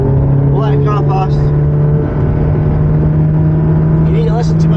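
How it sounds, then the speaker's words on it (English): A car overtakes a Ferrari on the road, a steady engine drone carrying a strong constant hum, with an instructor's voice heard briefly over it. "We'll let the car pass."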